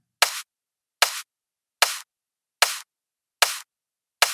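Reversed kick drum sample triggered six times at an even pace, each hit swelling up from nothing and cutting off sharply, loud and dry with silence between.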